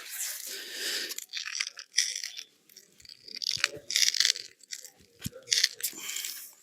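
A defective ESAPI ceramic armor plate crunches and crackles in several irregular bursts as it is twisted, each bout of grinding close and fairly loud, with short pauses between.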